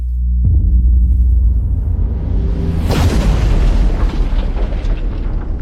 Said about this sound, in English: It's an 8-inch subwoofer, and that thing bangs.